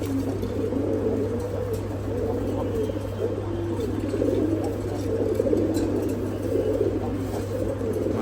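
Chila pigeons in a breeding loft, male and female pairs together, keep up a continuous low cooing chorus over a steady background hum, with no pauses.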